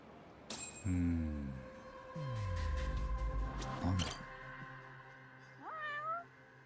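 A cat meowing in the video game Judgment: several distinct, drawn-out meows at close range, some rising and falling, separated by short pauses, with no talk.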